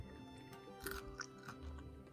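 Crunchy, crispy vegan food being chewed close to the mouth, giving a quiet run of irregular crackly bites with no talk.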